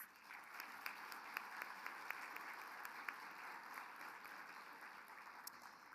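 Audience applause fills a main-stage session at an Arizona Mexico Commission summit, a steady wash of many clapping hands with scattered sharper claps, moderately loud and sustained throughout.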